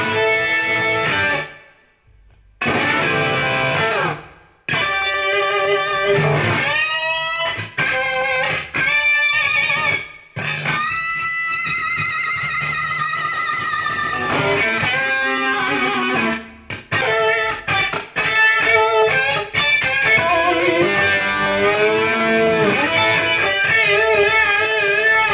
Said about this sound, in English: Here's what the guitar solo sounded like as it was recorded.